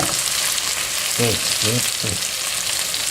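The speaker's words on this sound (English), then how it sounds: "So we're going to let them simmer a little bit longer, not simmer, fry." Potatoes and onions frying in a pan give off a steady, loud, close sizzle that lasts the whole time, with a short burst of stirring or scraping in the middle.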